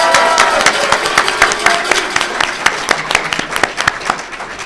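Loud, dense audience applause at an award ceremony honoring a Hall of Fame inductee, many hands clapping steadily with sharp individual claps standing out, sustained throughout.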